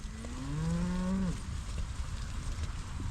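Dairy cows moo on a farm, one long, loud, close low bellow that falls in pitch at its end, over steady rain and outdoor background noise.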